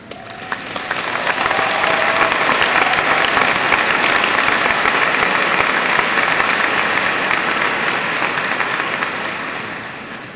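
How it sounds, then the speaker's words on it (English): A graduation audience at a 2002 high school ceremony applauds the teachers: dense, steady clapping swells within the first second and holds for about ten seconds before thinning slightly at the end. "Will those teachers who are present this evening stand as we applaud them for their"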